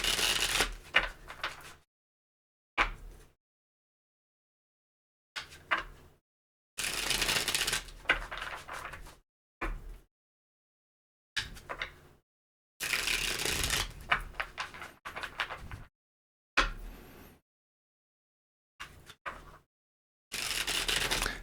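Tarot cards being shuffled by hand in repeated short bursts of crisp riffling and flicking, separated by silent pauses, close and fairly quiet with no talking.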